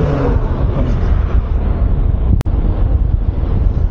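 Steady wind roars across the microphone while riding along a smooth new bypass road near Mintal, Davao, with a brief dropout partway through.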